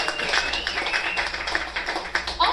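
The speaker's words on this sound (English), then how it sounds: "Clap it up for that." An audience claps together in a steady burst of applause at a 2010 comedy interview, dense and fairly loud across the whole moment, with a voice faintly underneath.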